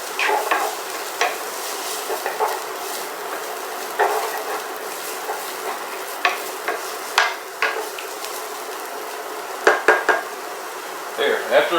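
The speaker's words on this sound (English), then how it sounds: "I'm going to just go ahead and saute this up for about a minute" Vegetables sauteing in a pan before ground beef goes in, a soft steady sizzle with scattered stirring scrapes and clicks from a utensil throughout, no talking.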